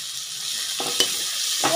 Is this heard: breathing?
no